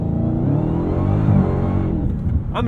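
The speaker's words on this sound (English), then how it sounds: "I'm going to spin the tires with half throttle." An 807-horsepower Dodge Challenger Hellcat with traction control off spins its tires at partial throttle, a loud, close engine roar that holds steady, then drops away near the end with a brief sharp burst.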